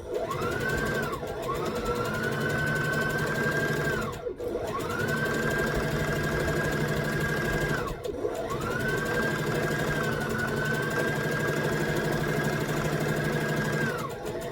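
A sewing machine stitches an overshirt seam in long steady runs, its whirring motor holding an even pitch for several seconds, briefly pausing twice before starting again, close and continuous with no talk.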